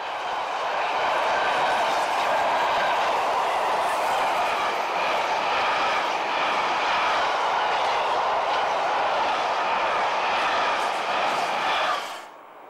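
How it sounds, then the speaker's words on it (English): The Iore, a daily Norwegian freight train between Oslo and Narvik, rumbles past close by at the Arctic Circle at Polcirkeln, a loud, sustained rolling roar that holds steady for about twelve seconds before cutting off. "One of the trains to pass through Polcirkeln is the Iore, a daily Norwegian freight train linking Oslo and Narvik."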